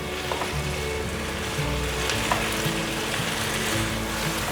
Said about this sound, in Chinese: 最后放入芹菜， 快速的翻拌一下